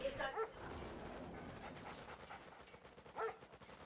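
Attack dogs in a real-time strategy video game, with a few short barks and yips at the start and again near the end, fairly faint over a quiet game soundscape.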